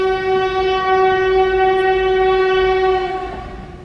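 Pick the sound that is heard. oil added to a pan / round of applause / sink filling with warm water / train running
train running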